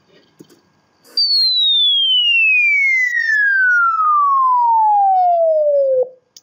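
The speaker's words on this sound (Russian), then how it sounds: "однако сам sweep-сигнал отлично воспроизводится и сам sweep-мод отлично отрабатывает" A low-frequency generator outputs a single pure sine sweep that glides smoothly downward from high to low pitch over about five seconds, loud and clean, with brief faint clicks before and after.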